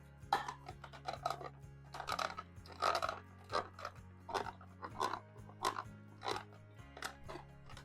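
Mozzarella cheese rubbed against a kitchen grater while shredding, a steady run of rhythmic scraping strokes, close and fairly quiet, repeating about once a second over a low hum, with no talking.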